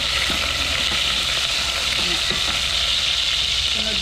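Garlic frying in a pan gives a constant, bright sizzle with occasional soft stirring clicks and scrapes, steady and close throughout.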